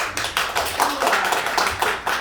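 An audience at a Sinchon community concert claps for a guest introduced from Mokpo: dense, steady applause with sharp hand-claps running the whole stretch, fairly close and loud.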